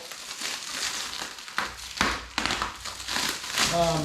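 Protective plastic film is peeled off a 98 lb Fort Knox Fortress steel mailbox made in USA, giving close, irregular crinkling and crackling with sharper ripping bursts.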